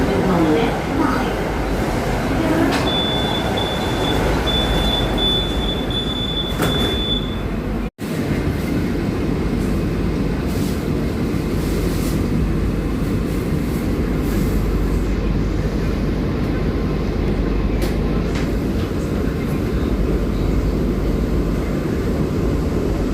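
A Medha AC local train runs between Nala Sopara and Vasai Road on the Borivali to Virar line, a loud continuous rumble of wheels on rail with a brief high squeal early on and a short dropout, heard from inside the car.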